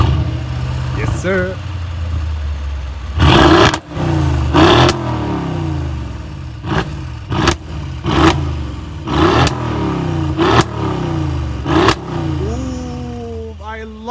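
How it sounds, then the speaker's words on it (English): Loud V8 of a 2015 Mercedes-AMG GLE63 S Coupe blipped repeatedly, about eight sharp revs spaced across an idle, with someone speaking briefly near the start. "Listen to this, pure V8."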